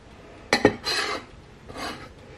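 Chicken pieces being mixed by hand with a garlic and ginger marinade in a bowl: two sharp knocks, then a few wet, rasping rubs and squelches up close.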